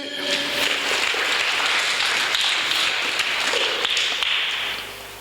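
A church congregation breaks into sustained applause, a dense wash of many hands clapping that stays loud and steady for several seconds before tapering off at the end.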